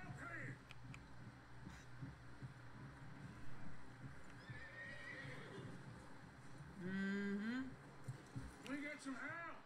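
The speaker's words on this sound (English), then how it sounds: "Someone help John down off this horse" In Red Dead Redemption 2, a horse whinnies and neighs several times over soft clopping hooves, with people talking in the background.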